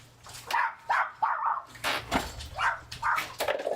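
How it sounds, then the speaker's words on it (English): Several dogs bark loudly and sharply in repeated bursts, close by, with piercing yips and short whimpers between barks and a faint low hum underneath. "Ear-piercing bark they've got."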